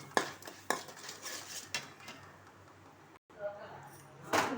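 Fried potato pieces being stirred and mixed in a pan after salting, with several sharp spoon-on-metal scrapes and clinks at irregular intervals over a soft background.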